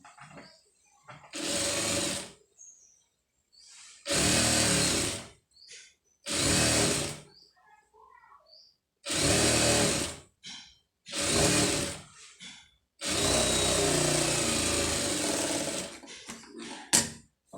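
A sewing machine stitches the lining piece of an embroidery blouse in loud, steady whirring runs, six bursts separated by short pauses, with the final run lasting longest.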